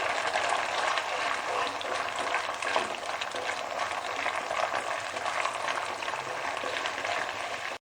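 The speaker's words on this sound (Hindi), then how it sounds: "ये मैं मीडियम फ्लेम पर इसको भून रही हूँ और अच्छी तरह इसको स्टिकी बनाना है।" Semolina and milk mixture roasting in a pan over a medium flame, a steady soft sizzle and bubbling hiss continuing evenly throughout.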